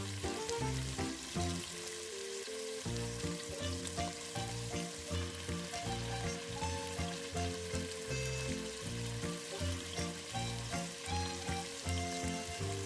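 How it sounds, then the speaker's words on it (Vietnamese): Macaroni frying in hot oil, a dense continuous sizzle and crackle heard close up and alone, with no talking. "Sau khi dầu đã sôi nóng rồi thì bắt đầu mình bỏ nuôi vào để chiên"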